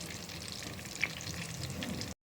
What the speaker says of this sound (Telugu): బాదుష ఎందుకంటే మందంగా ఉంటాయి కదా లోపల దాకా వేగాలి అందుకని మనం నిదానంగా వేపుకోవాలి